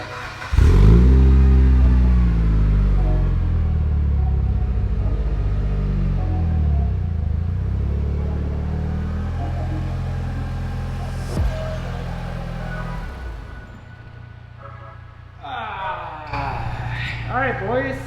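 A Mitsubishi Evo, freshly repaired after leak fixes, starts and is driven, its engine revving loudly and close with rising and falling pitch, settling into a steady drone before a final rev.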